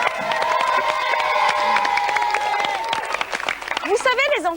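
A television studio audience claps and cheers for children on a 1991 French kids' show, loud and continuous, with a host's voice talking over it and a few shouts rising near the end.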